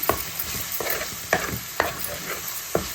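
Fish curry masala with salt, chili powder and turmeric stirred in a pan: a spoon scrapes through the thick paste in several distinct strokes over a steady, close sizzle, with no talking.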